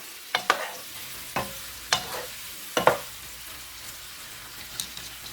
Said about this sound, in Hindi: और इसको अच्छे से मिक्स कर लेंगे योगर्ट के साथ।